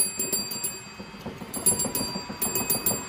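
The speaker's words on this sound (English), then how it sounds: "You just pressed the bell." Rapid repeated ringing of a bell pressed to end a round, bright metallic dings in quick clusters over a low, muffled background clatter, with no clear voices.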